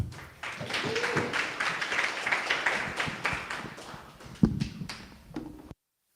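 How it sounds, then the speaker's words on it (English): An audience at a marketing talk applauds a speaker with a steady patter of clapping hands that fades out after several seconds. "let's give a round of applause to our first speaker"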